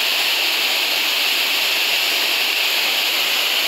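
A tourist waterfall in Vitória de Santo Antão roars as steady, dense broadband rushing water, loud and continuous with no voices over it.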